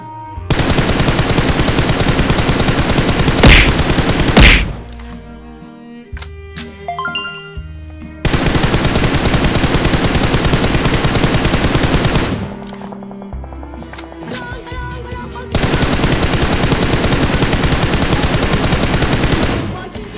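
Automatic gunfire from PUBG Mobile rattles in long, loud sustained bursts, broken by short pauses with scattered shots and metallic clinks, then resumes twice more.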